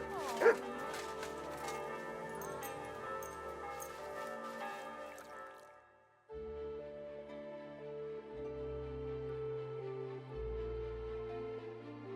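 Dog barking in the medieval open-world game Kingdom Come: Deliverance II, a sharp bark early on over a steady orchestral score with bell-like tones, the music carrying on alone afterward.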